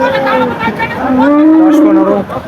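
A bull moos loudly and close up at a cattle market, one long, drawn-out low call with a rising and falling pitch.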